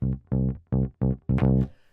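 A Motown bass figure: a quick burst of offbeat sixteenth-note plucks, each note short and distinct, the final one brighter and ringing a little longer. It is close and alone, with no talk.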